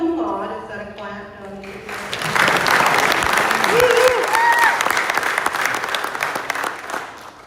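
A graduation audience breaks into applause for a summa cum laude graduate, the clapping swelling after a spoken voice fades and holding loud and dense, with a few cheers rising over it.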